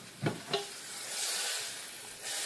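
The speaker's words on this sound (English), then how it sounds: "Just get that butter nice and melted in there" Butter melts in a pan for popcorn with a steady soft sizzle and hiss, preceded by two quick knocks of a utensil near the start.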